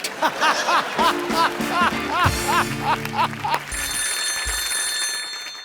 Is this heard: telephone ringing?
yes